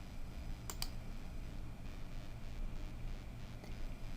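Two quick mouse clicks on a computer while navigating patient software, sharp and close, followed by a few faint ticks over a steady low hum of room noise.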